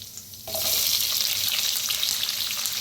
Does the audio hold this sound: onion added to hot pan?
yes